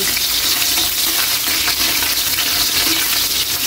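Ginger sautés in hot oil in a pan as the start of a sinigang with santol, giving a steady, close, crackling sizzle that carries on evenly with no voices.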